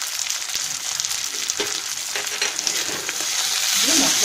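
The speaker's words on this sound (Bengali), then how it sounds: "মশলাটাকে ভালো করে কষিয়ে নেব" Spice masala with chilli powder, green chillies and tomato being stir-fried for a Bengali boal fish curry, a steady close sizzle with occasional stirring scrapes and no talk.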